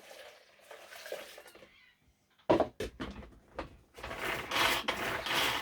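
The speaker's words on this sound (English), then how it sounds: "Now, pour in the boiling water, 300 mils of boiling water." Boiling water poured into a mint sauce with sugar makes a steady, close splashing rush over the last couple of seconds, after a few sharp clinks and knocks of kitchenware.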